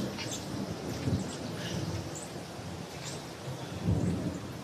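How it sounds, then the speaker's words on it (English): Thunderstorm with torrential rain over a harbour during an evening sailing race, steady heavy rain hiss throughout with two deep rolling thunder rumbles, one near the start and a louder one toward the end. "It is still raining torrentially on the harbour."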